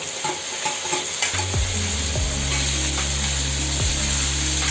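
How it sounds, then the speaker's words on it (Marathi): Cut onion sizzles and is stirred in a hot pan over high heat while making chilli paneer, a continuous loud frying hiss with several scraping stirs of a utensil against the pan. "आपण आता आपण याच्यामध्ये कांदा टाकायचा आपल्याला कांदा जो कट केला आहे तो टाकला"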